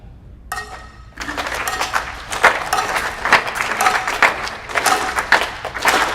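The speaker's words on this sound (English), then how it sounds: "I'm going to play the cowbell, and I want to see if all of you can clap with me" An audience at a drumming event claps in unison along with a cowbell, a brief tone opening before dense, rhythmic clapping rises and continues steadily, fairly loud and close, with light clinking touches throughout.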